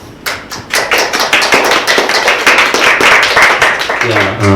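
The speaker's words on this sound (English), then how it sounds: "Let's give him a round of applause." A conference audience at a GeekcampSG tech talk claps loudly for an incoming speaker, a few scattered claps swelling into full applause before a voice begins at the end.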